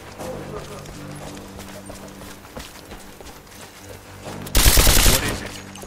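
A loud burst of rapid gunfire erupts near the end of a Rise of the Tomb Raider scene, after a stretch of quieter game ambience with hoof-like thuds.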